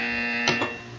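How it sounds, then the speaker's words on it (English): A buzzer in the video game Portal 2 sounds once, a short electronic burst over a steady tonal hum, alone without talk. "When you hear the buzzer, look up at the ceiling."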